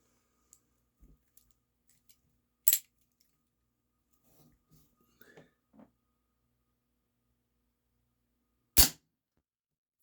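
Remington 1875 CO2 revolver firing lead BBs, two sharp isolated snaps several seconds apart, with faint clicks and handling noises between them in a quiet room.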